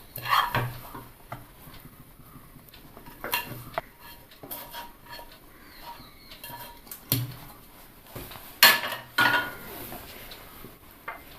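A spoon scrapes and clinks against a bowl while mashed potato is stirred together with cooled semolina, giving irregular soft knocks and scrapes with a few sharper taps, close and fairly quiet, with no talking.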